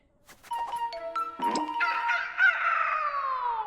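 Several chickens cluck and squawk close by, with a drawn-out rising call near the end, no talking.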